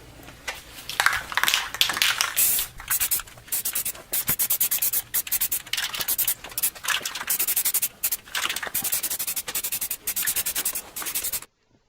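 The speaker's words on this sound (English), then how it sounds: "then final sanding with some 400 grit sandpaper" Sandpaper, 400 grit, rubbing over primer on a 1959 Ford F100 body in steady, close, rapid back-and-forth strokes with brief pauses, no voices, stopping abruptly at the end.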